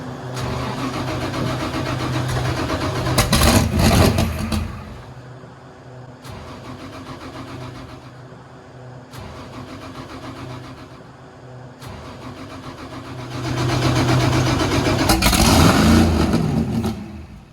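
A raceboat's troublesome rear engine cranks and revs in loud, rough bursts, surging at the start, easing to a steadier idle in the middle, then roaring up again near the end.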